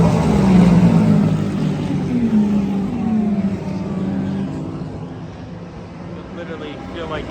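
Endurance race cars at Watkins Glen's bus stop chicane during the 6 Hours at the Glen, roaring very close as they brake off the straightaway, engine pitch sweeping down and fading while a speaker talks.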